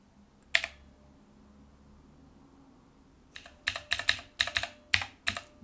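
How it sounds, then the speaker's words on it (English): Button presses on a Divoom Ditoo retro pixel-art speaker with a mechanical-keyboard feel: one sharp click, a pause, then a quick run of about ten crisp, close clacks. "The button pressing is very satisfying, so that's like a really good mechanical keyboard here."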